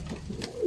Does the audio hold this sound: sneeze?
no